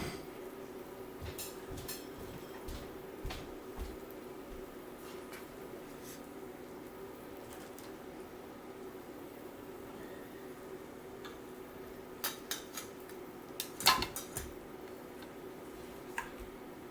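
Plates and cutlery clink faintly while Moroccan liver and onions are served, scattered light taps and scrapes over a quiet hum, with a brief cluster of louder clatter midway.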